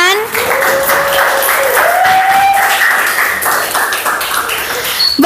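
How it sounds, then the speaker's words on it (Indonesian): Audience applause for two speakers at a teachers' seminar: steady, full clapping from a room of people, with a voice sounding over it much of the time. "Boleh dong sekali lagi tepuk tangannya teman-teman"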